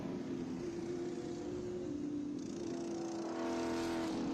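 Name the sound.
Trans Am TA2 Howe chassis race car passing at NJMP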